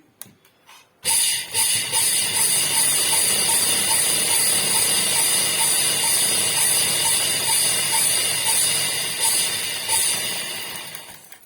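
A sewing machine stitching a top starts abruptly after a few soft handling knocks, then runs as a steady, close, fast mechanical whir and rattle that eases slightly near the end.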